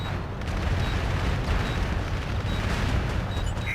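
Explosive charges going off at a roadblock in the online shooter MAG, a continuous heavy rumbling boom with a dense low roar, loud and sustained with faint distant crackles.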